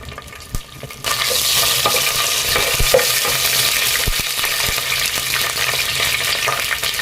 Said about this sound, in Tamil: இப்போ எண்ணெய் சூடானதும் கொஞ்சமாக கடுகு போட்டுக்கலாங்க